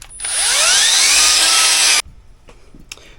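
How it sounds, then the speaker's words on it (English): A power drill spins a wire brush against the metal of a backhoe for about two seconds, a loud harsh whir and scrape that cuts off abruptly, followed by faint clatter. "I'm going to wire brush this with my drill"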